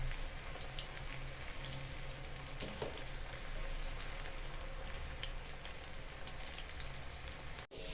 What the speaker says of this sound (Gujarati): તો હવે તેમાં પીસ એડ કરીએ. હવે થવા દઈએ, ધીમે ધીમે તળતા જઈએ.